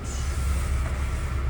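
A Long Island Rail Road M3 car standing at Jamaica station, giving off a steady low rumble and broadband hum that holds evenly throughout, with no voices over it.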